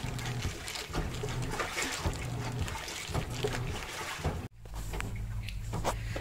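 A washing machine drains water while washing white laundry, with a continuous rushing, trickling flow that briefly cuts out near the end and then resumes.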